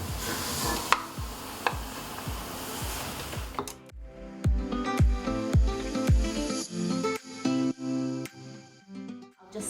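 Sugar added to creamed butter in a bowl for a jam slice, heard as a rhythmic run of thumping beats from an electric mixer, then a stretch of whirring mixing with irregular knocks.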